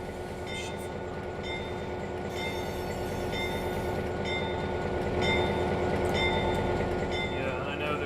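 Locomotive engine in the Run 8 train simulator with a Roots blower whining, a steady dense mechanical drone with a rhythmic pulsing churn and faint high whistling tones, constant and close throughout.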